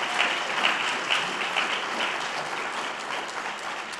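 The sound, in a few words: audience applause for Attorney General Andrea Campbell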